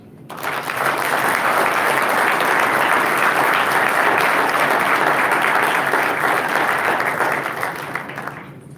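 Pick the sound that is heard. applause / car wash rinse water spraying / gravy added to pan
applause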